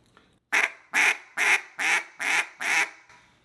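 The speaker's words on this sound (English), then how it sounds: "Start off with one quack at a time." Six evenly spaced single quacks from a duck call, each a short loud burst with a pause after, blown alone with no talk.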